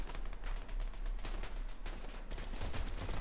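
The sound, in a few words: SMG gunfire in Fortnite video game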